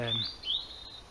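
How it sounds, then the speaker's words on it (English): A couple of quick, high bird chirps ring out against a quiet, calm background in a sheltered spot at an abandoned theme park being overtaken by nature. "You can just hear the birds tweeting"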